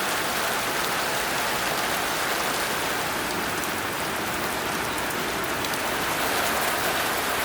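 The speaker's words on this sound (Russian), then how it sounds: "Очень красиво солнце, но дождь." Rain falling steadily in a small Russian town, a loud, dense and unbroken hiss of drops on surfaces that continues evenly throughout with no voices.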